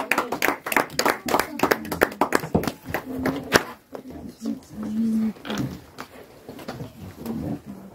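Church congregation applauding the pastor at a French-language service, a loud burst of clapping with sharp crisp hits at the start that thins into scattered claps beneath a voice speaking and singing.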